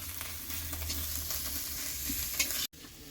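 Prawns sizzle and fry in a spiced pan while being stirred, a steady close hiss broken by soft scraping strokes, with a brief sharp cut near the end.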